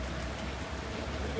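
Steady, soft rain hisses evenly around a Flixbus at a stop in Ljubljana, a continuous wash of drops with no clear break.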